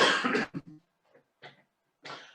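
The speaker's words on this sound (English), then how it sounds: "I have a little bit of a cough" A short burst of coughing, a few harsh close coughs in quick succession followed by quieter throat-clearing sounds.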